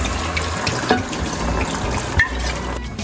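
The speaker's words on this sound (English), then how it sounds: "Add some water, probably a glass." Water from a tap pours steadily into a pan of chicken cooking in wine, a continuous rushing splash heard close up with no talk.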